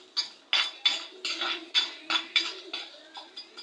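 Cumin seeds fried and stirred in a pan, with a metal spoon clinking and scraping in a steady, uneven rhythm of about a dozen close, sharp strokes and no talk.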